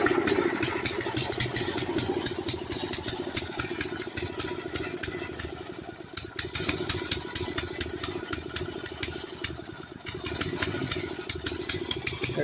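A 5hp Briggs & Stratton small engine idles steadily with a fast, even putter, close and loud and running without pause, with no talking.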